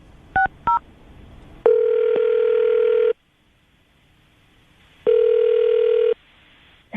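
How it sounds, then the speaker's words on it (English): A telephone number is dialed in quick touch-tone beeps, then two long ringback tones sound with a silent gap between them, loud and clear with no voices. "I'm going to dial the number now"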